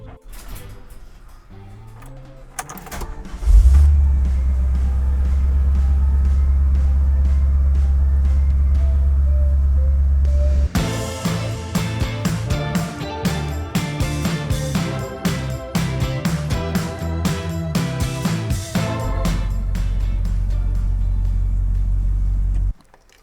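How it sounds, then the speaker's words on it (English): A car engine cranks and catches, then idles steadily with a loud low rumble; midway, mechanical clicks and whirs join the running engine before it settles back to a smooth idle and cuts off. "this car starting up and the headlights turning on"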